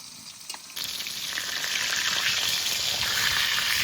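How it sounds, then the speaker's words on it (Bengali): Rohu fish frying in hot oil, a steady loud sizzle that swells up after a brief quieter start and then holds continuously with crackling spatter, close by with no one speaking. "এক পিঠ ভাজা হয়ে গেছে, এবার উল্টিয়ে দেবো।"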